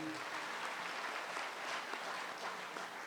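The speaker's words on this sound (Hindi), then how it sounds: "तो ये बहुत बड़े कलाकार, इनके लिए बहुत सी तालियाँ।" An audience at a live comedy and music show in Muscat applauds a performer, producing continuous moderate clapping that holds evenly from start to finish, with no speech over it.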